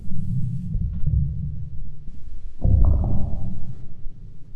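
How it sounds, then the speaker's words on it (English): Low, muffled gurgling and rumbling stomach and throat sounds, close and wet, with a soft throaty swell partway through. "And these are all actually recordings of like my stomach and throat."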